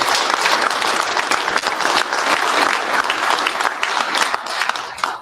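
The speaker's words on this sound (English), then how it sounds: "Big round of applause." Dense, sustained applause fills an awards ceremony hall at the PRI 2025 Drag & Drive Awards. The many hands clap continuously and loudly, with a slight fade at the end.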